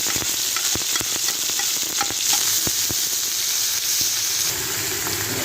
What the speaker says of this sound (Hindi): अभी हमने जो लहसुन, अदरक, प्याज ये इसको डाल देते हैं।